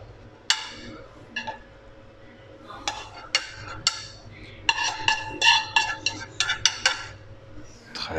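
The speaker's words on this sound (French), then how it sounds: "On va mettre le riz au fond des assiettes." Rice spooned onto serving plates while plating a seafood curry, giving a run of clinks and scrapes of a spoon against ceramic that come in irregular bursts and grow busier toward the end, close by and fairly quiet.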